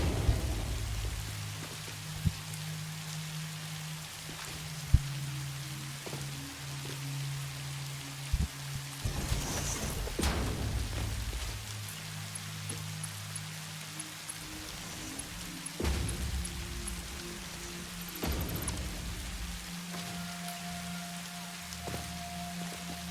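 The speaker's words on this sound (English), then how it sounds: "Love the sounds of the rain, dude. I'm so excited for it to be an actual thing in the game." Rain pours steadily in a video game, a constant hiss of drops on surfaces with occasional sharper splashes and a low rumble of thunder, no voices present.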